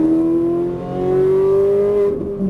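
Ferrari 458 Italia engine accelerating on a track, a loud close tonal roar climbing steadily in pitch, dipping briefly and rising again before cutting off near the end of a short burst.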